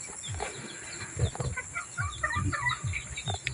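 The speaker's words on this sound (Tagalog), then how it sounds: "Ayan ang mga manok ko." Scattered soft clucks from several chickens over a busy outdoor background, with bird chirps mixed in; no one speaks.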